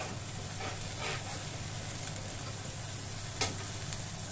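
Shahjeera seeds fry in hot oil for mutton yakhni pulao, producing a steady, fairly even sizzle with faint stirring scrapes and one brief clink, and no voice.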